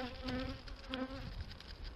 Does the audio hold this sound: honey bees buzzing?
yes